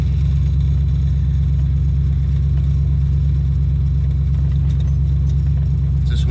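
Supercharged Foxbody Mustang backing up in reverse, its loud engine droning with a heavy, steady low rumble throughout, close by.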